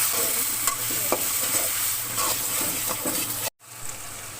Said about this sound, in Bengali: এবার এই মশলাটা আমি ভালো করে কষিয়ে নেব, যেন মশলা কাঁচা গন্ধটা না থাকে।